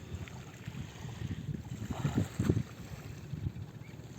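A small boat's motor chugs steadily over water, swelling louder midway as it draws near, with soft wind in the background.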